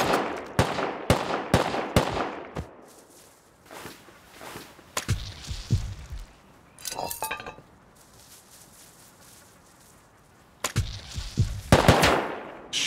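Gunfire in the video game Rust: rapid bursts of shots crack at the start, then isolated shots and a brief burst later, near and loud between quieter stretches.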